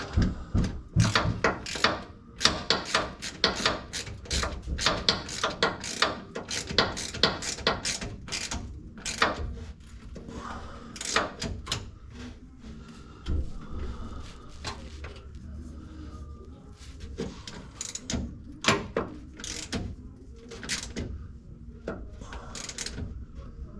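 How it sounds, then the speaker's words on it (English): A wrench ratchets on a bolt of an external transmission filter kit, with close, crisp clicking in rapid bursts that thin out into sparser clicks and metallic clunks. "Barely get this wrench on this one."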